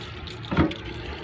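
Water runs briefly into a kitchen sink garbage disposal to flush down leftover ice bits, a short gushing splash swelling for a moment over a steady background rush.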